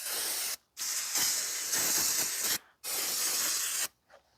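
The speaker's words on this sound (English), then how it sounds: "So now we're just going to give this brake rotor a quick cleaning." Aerosol brake cleaner sprayed onto the front brake rotor of a 2017 Toyota Corolla 1.8, three loud, steady hissing bursts of about one to one and a half seconds each, separated by short pauses, with no talking.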